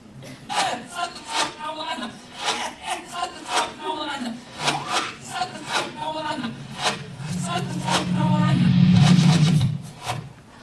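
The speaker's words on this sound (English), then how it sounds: "here's the words when that's played backwards" Queen's "Another One Bites the Dust" played in reverse: garbled backward vocals and swelling reversed instrument sounds over a pulsing beat, building to a sustained loud smear near the end.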